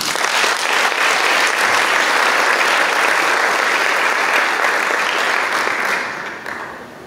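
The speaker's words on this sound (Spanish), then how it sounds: "Por eso demos un fuerte aplauso." Sustained audience applause at a Eucharist celebration marking a school's 125th anniversary, a dense steady wash of many hands clapping that holds loud for several seconds before fading near the end.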